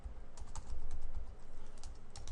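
A username and password are typed on a computer keyboard, with fast, close, continuous key clatter and no talking.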